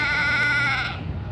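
White Dorper sheep bleat loudly and close by in a livestock show ring at an agricultural fair, one sustained wavering bleat that fades out toward the end.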